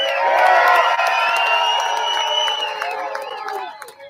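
A crowd cheers, whoops and applauds for the volunteers who stayed behind to clean up after the People's Convoy left. The excited voices are loud and dense at first and thin out slightly toward the end.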